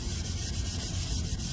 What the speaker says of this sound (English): I've just been kind of scrubbing it with this Scotch-brite pad here